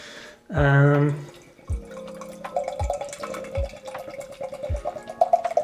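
Galway Bay craft beer brewed with Strata hops is poured into a glass in short splashes, with liquid gurgling and fizzing close by and a voice speaking over the pour.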